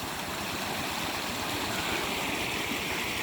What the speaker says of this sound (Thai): มามาดูน้ำท่วมกันใกล้ ๆ ครับผม